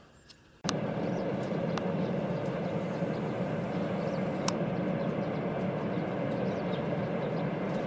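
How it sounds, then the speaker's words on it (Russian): A distant train in the Russian countryside rumbles steadily, a low continuous drone that starts abruptly and holds, with faint clicks scattered on top. "А там видно, поезд идет."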